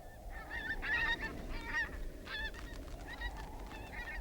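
Several geese honk repeatedly in overlapping calls over a steady low background rumble, moderately close and fairly loud throughout, on Alaskan tundra nesting grounds.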